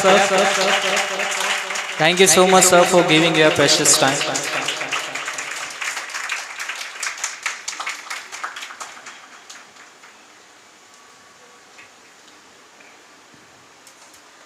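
A school audience claps for a teacher at a Teacher's Appreciation Day celebration, a few seconds of dense applause that slowly thins to scattered claps, with a voice speaking over the start.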